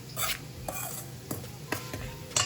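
A flour mixture with pink Himalayan salt is stirred in a bowl: several rhythmic scraping strokes, close and fairly loud.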